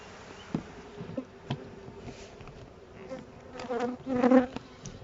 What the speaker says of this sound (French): je referme tranquillement la colonie sans me soucier des abeilles qui s'envolent hors de la manne